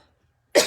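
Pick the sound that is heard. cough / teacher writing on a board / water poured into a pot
cough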